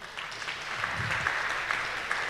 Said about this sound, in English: Give these people a warm applause because they traveled very far.